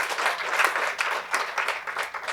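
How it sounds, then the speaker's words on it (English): Dense, steady applause from a crowd at a jazz dance talk event, sustained clapping throughout with slight swells, no speech over it. "we can clap for that"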